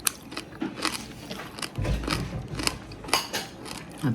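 Crispy pork belly crunches loudly under repeated bites and chewing, close to the microphone, with brittle crackling bursts and no talking.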